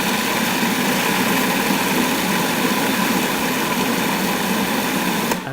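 A food processor grinding rolled oats and cashews, a loud, steady whirring motor held continuously for about five seconds before cutting off at the end.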